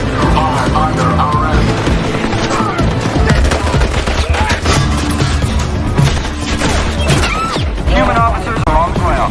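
Gunfire from a robot shootout in a gangster film scene, a loud, dense clatter of shots and crashes running throughout under a busy soundtrack, with voices mixed in.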